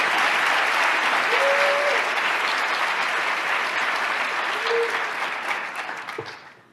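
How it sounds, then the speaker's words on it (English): A crowd at the New York State of the State address applauds in sustained, dense clapping that gradually fades toward the end, with a brief voice or two faintly above it. "Let everybody clap."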